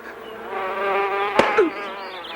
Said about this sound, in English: Get the bee away! It's a killer bee